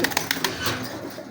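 A few soft pigeon coos and rustles, close by, fading into quieter background noise after the first half second.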